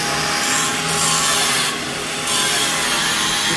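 A steady abrasive rasping of an electric sander on wood, loud and close, with a brief shift in pitch midway.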